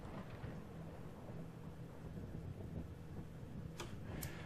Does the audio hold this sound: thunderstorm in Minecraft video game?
yes